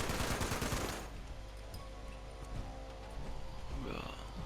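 Automatic turret fire in the video game Fallout 76, a dense burst of rapid shots at the start that drops to a fainter rattle under background game noise and voices.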